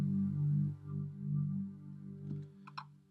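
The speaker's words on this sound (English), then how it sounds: "Typical pad sound sounds like this, just so you know." A soft, sustained synth pad from Logic holds warm low chords that swell and fade, fairly quiet, followed by a few faint clicks near the end.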